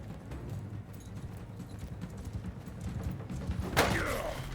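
Horse hooves clip-clop in Mount & Blade: Bannerlord during a battle, a continuous rhythmic patter under game noise, with a sharp clash near the end.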